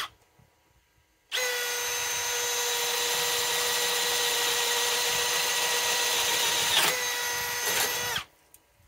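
A Milwaukee M12 Fuel third-generation hammer drill, model 3404-20, running on a 5 amp XC battery at two bars, drills continuously for about seven seconds with a steady high whine, close and loud, ending with a brief stutter before stopping.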